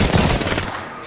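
Rapid automatic gunfire in the battle-royale video game Apex Legends, a dense close burst of shots that fades toward the end with no talk over it.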